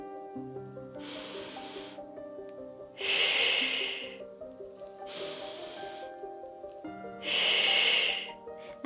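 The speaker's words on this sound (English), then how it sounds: "Inhale and exhale." Slow, deliberate breaths during a Pilates ab workout, long inhales and exhales alternating in four audible cycles, close and fairly loud, with soft background music underneath.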